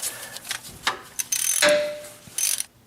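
A strap-type ratchet is fitted around the engine oil filter of a Dodge Ram 1500 with the 5.7L Hemi, giving close metallic clicks and rattles followed by a louder scraping ratchet sweep.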